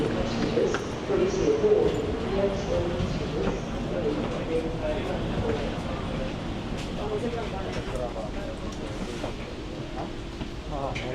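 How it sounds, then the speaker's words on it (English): A train travelling from Rome's airport toward the city centre, its steady rumble and rattling carriage noise running continuously at close range while people talk nearby throughout. "So I've managed to get on the train."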